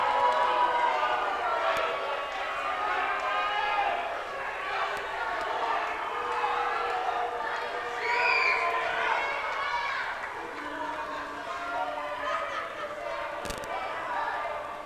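A wrestling crowd at an event in Wakefield, Massachusetts makes a steady, dense roar of cheering and chatter that carries on through the whole stretch, with a sharp thump near the end.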